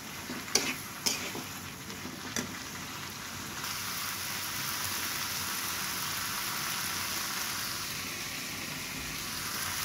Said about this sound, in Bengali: এটা দিয়ে সুন্দর করে ভেজে নেব।